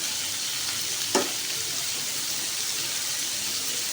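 Vegetables sizzle steadily in a hot pan while being stir-fried and mixed for a Turkish kofta kabab dish, with one brief clink of a utensil against the pan amid the constant frying hiss.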